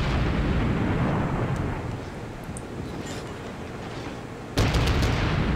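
Naval gunfire in the World of Warships video game, heavy rumbling broadband booms rolling continuously while firing on a battleship, with a sharp new blast near the end; no talk.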